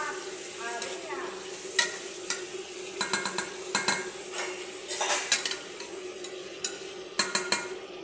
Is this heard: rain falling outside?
no